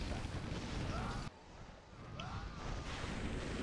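Energy torpedo volleys in a Warcraft 3 Battle Tanks match: repeated booming, crackling blasts at mid distance, with a brief lull partway through before dense, continuous bursts of fire return.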